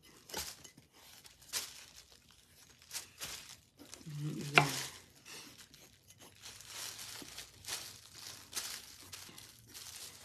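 Soft sizzling and scraping of stirring in a pot, with intermittent clinks and rustles; steady low-level cooking noise, no talking.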